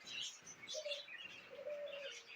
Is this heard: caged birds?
yes